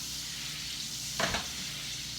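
Two tablespoons each of olive oil and butter sizzle in a saute pan, a steady soft hiss with a brief louder burst of crackle midway, close and without talk.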